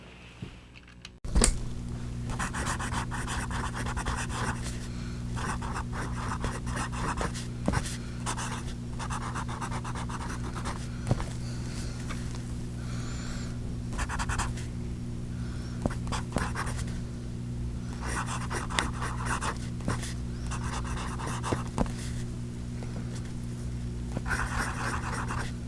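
A Monteverde Prima fountain pen scratches across paper in close, soft strokes, repeated bursts of fine scratching and pauses over a steady low hum, with no speech.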